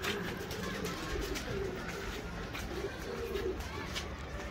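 Soft coos from a white pigeon repeat a few times under a steady rumble of background noise, low and somewhat muffled.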